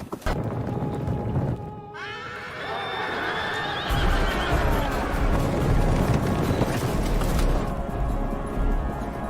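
Horses whinny loudly and repeatedly as mounted horse archers ride in, long shrill neighs rising over a rumble of hooves and crashing commotion, the calls growing more layered and intense toward the end.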